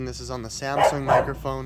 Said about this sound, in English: So right now, you can hear my neighbor's dogs barking.